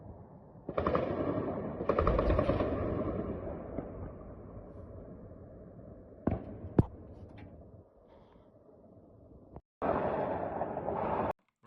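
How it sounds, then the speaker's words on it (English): Bursts of distant gunfire rattle in sustained volleys at night in Ukraine, shooting at incoming Russian drones, with a few sharp isolated shots between them and brief quiet gaps. "you're going to hear lots of gunfire here trying to bring down these incoming drones from Russia"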